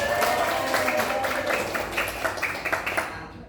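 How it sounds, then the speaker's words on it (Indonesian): Applause for a student in a classroom, a dense patter of many hands clapping steadily for a few seconds at moderate loudness, fading slightly toward the end. "Pintar sekali, tepuk tangan untuk Mbak."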